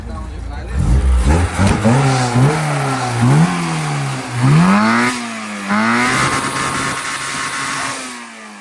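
A 1977 Lada Zhiguli engine revs up and down repeatedly at a Samarkand car market, rising and falling roars close by, settling into a steady idle hum at the end.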